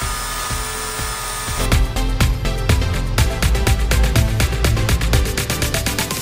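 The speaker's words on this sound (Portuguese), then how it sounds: "Hora de furar a parede para receber o cabideiro." A power drill bores into a wall to mount a coat rack, starting after a brief pause and then running steadily with rhythmic grinding pulses, close and fairly loud, with no talking.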